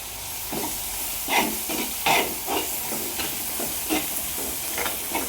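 Curry leaves frying in a pan of sardines give off a steady sizzle and hiss, with a few louder crackling bursts rising and falling over the continuous frying noise.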